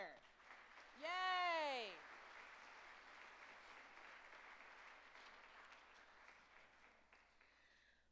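Faint, distant applause from a crowd at a sixth-grade demo concert. A child's rising cheer rings out near the start, then the soft clapping continues steadily underneath.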